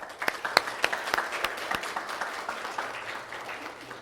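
Audience applause welcoming Sandra Clare at an event, a moderate crowd clapping with distinct sharp claps early that blend into a steady, gradually fading patter, heard from a slight distance.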